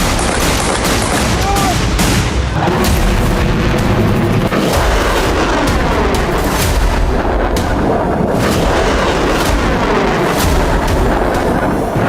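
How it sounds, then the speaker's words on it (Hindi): Houthi rebels in Yemen launching missiles toward Israel: a loud, dense, continuous roar of blast noise with repeated heavy booms and cracks, sustained for the whole stretch, with faint voices in the mix. "हूती विद्रोहियों ने 2000 किलोमीटर दूर से इजराइल की तरफ मिसाइलें दाग दी"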